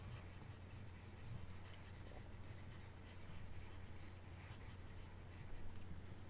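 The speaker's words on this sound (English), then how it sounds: "I'm going to erase all of this so I have space." Soft, steady rubbing of an eraser wiping writing off a board, faint and continuous for several seconds with no talking.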